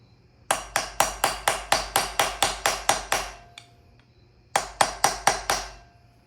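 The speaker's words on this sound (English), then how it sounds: "I have been banging on the pilot bearing for a couple minutes now." A pilot bearing driven in with hammer blows through a piece of aluminum during an LS1 engine and T56 transmission swap into a Nissan S13: about a dozen sharp, close metallic strikes in steady rhythm, a pause, then five more.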